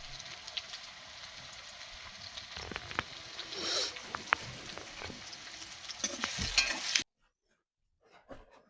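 Onions and green chilies frying in oil, a steady close sizzle with scattered crackles and spatter pops and a few stirring scrapes, ending abruptly in near silence with faint clicks.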